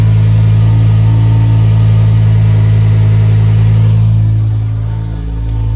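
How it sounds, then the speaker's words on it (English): A BMW M5 E60 engine warming up near idle, a loud, steady low drone with layered mechanical whine as an auxiliary pump kicks in, dipping slightly toward the end. "that kind of high-pitched mechanical noise is the Ventus pump kicking in and the rest of the engine warming up"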